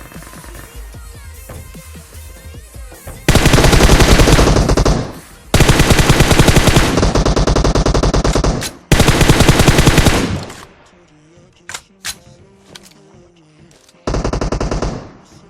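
Rapid automatic gunfire in a battle royale video game, coming in several loud sustained bursts separated by short quiet gaps with scattered single shots, and no talking.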